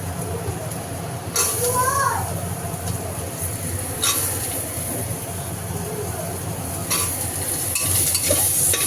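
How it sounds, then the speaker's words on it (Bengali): Steady sizzling of ginger and potatoes frying in a pan with occasional stirring scrapes, a continuous crackling hiss throughout. "আদা একটু হালকা ভাজা ভাজা হয়ে গেলে আলুটা দিয়ে একটু ভাজা ভাজা করে দেবো"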